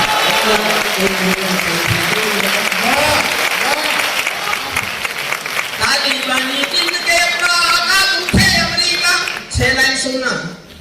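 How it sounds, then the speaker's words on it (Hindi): Audience at a Hindi poetry and comedy show with a national poet claps loudly and continuously, the crowd applause running the whole way under a speaking voice. "तालियां उठाना मेरे साथ।"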